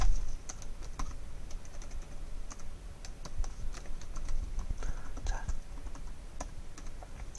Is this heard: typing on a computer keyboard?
yes